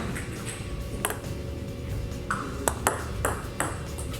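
A table tennis ball bouncing during serve practice, making sharp, bright pings close by, spaced irregularly, some in quick pairs, over a steady room hum.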